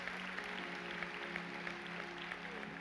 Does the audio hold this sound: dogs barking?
no